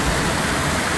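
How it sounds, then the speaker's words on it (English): A waterfall at the Alton Towers theme park roars steadily up close, a dense, continuous rush of pounding water filling the whole moment. "Right under the waterfall!"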